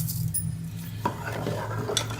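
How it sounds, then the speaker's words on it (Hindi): A pot of carrot and rice kheer with sugar being stirred by hand, a spoon scraping and clinking against the pot in a steady rhythm close by, with a faint sizzle from the cooking underneath. "इसको अच्छी तरह से मैं मिक्स कर लूँगी।"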